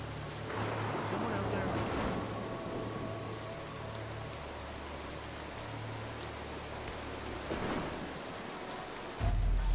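A thunderstorm in the stealth video game Mark of the Ninja gives a steady wash of rain with low rumbles of thunder, a deep boom rising at the end, while someone talks over it.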